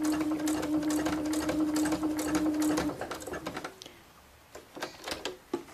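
Sewing machine stitching near the edge of a tote bag, a loud continuous motor hum with rapid needle chatter for about three seconds, then stopping and giving way to a few scattered clicks and handling knocks.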